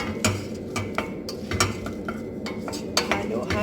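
Chicken being sautéed in a pot with ginger, long chili and chicken stock broth, a spoon scraping and clinking against the pot in irregular strokes over a soft sizzle, close by.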